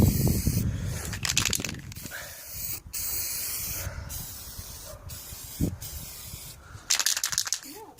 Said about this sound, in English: how to spray paint